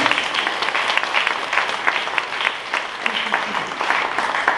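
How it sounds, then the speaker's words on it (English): A crowd at a Bitcoin legal panel event claps in a sustained, even round of applause, dense and continuous from start to finish at moderate loudness. "We just give a big round of applause."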